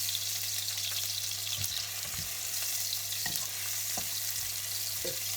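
Kapenta (matemba) fry steadily in a pan with a constant close sizzle, with occasional stirring clicks and scrapes and no talking.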